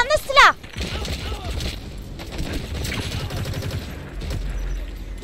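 Gunfire and mortar blasts rattle through a Metal Gear Solid V: The Phantom Pain battle, a sharp burst up front followed by a steady crackling stream of shots and rumbling impacts under someone talking.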